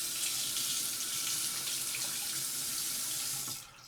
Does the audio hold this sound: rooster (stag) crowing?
no